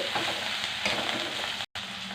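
Ginger paste fries in a hot pan for a chicken curry, giving a steady, close, dense sizzle that cuts out for a split second before carrying on, with no voices.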